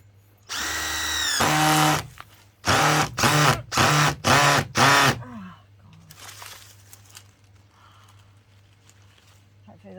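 A power drill drives a screw in several short, loud bursts, starting with one long run and then five quick pulses, followed by quieter rustling and handling noise outdoors near a fence meant to keep ducks out.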